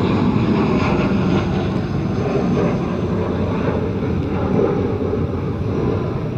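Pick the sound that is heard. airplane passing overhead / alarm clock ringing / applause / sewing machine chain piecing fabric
airplane passing overhead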